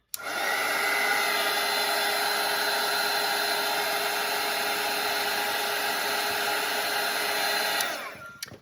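A hair dryer blows steadily over a watercolour painting, a loud, close, constant whirring rush that starts abruptly and cuts off near the end, with no talk.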